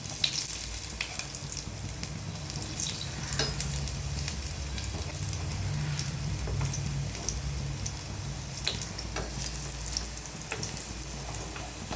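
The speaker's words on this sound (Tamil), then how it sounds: "இதே மாதிரி 2 பக்கமும் நம்ம பொன்னிறமாக பொரிச்சு எடுத்துட வேண்டியதாங்க." Meal maker (soya chunk) cutlets deep-frying in hot oil until golden on both sides, a steady, dense sizzle and bubbling crackle that runs continuously and evenly throughout, close and fairly loud with no talking.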